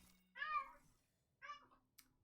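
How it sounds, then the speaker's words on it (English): A cat meows twice, each call short and soft, with a small click after the second. "Yes, it's the cat again."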